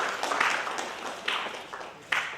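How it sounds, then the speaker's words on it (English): An audience applauds a panel at a social work conference, a soft, diffuse wash of many hands clapping at moderate distance, fairly faint and steady with a few sharper claps standing out. "A huge round of applause to our first panel, everybody."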